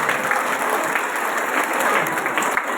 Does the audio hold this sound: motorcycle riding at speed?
no